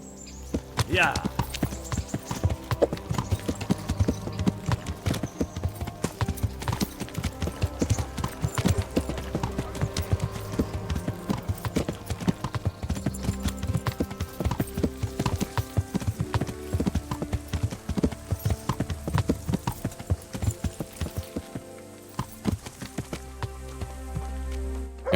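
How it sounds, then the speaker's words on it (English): Horse hooves clip-clop at a steady, brisk pace in the Kingdom Come: Deliverance video game, a continuous close rhythmic clatter with a brief whinny near the start and someone talking over parts of it. "let's just get on my horse right here"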